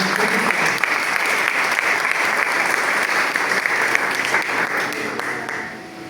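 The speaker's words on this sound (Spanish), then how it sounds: "Denle un fuerte aplauso." A church congregation at a Sunday service applauding together, a loud dense burst of clapping that holds steady for several seconds and then begins to taper off.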